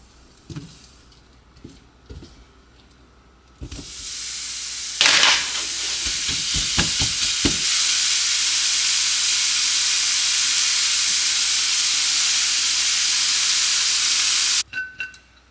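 Food sizzles loudly in a pan as it cooks, a steady hiss that starts abruptly after a few utensil clatters and knocks, then stops sharply near the end.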